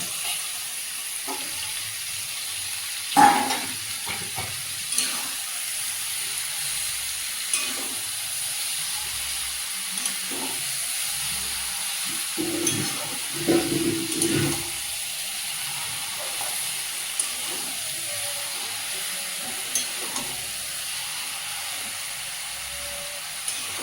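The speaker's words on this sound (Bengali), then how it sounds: "তেল ছাড়ছে, এবারে মাংসটা দিয়ে করবো।" Meat frying in hot oil in a home kitchen pan makes a soft, steady sizzle and hiss, broken by a few sharper clatters and stirring knocks.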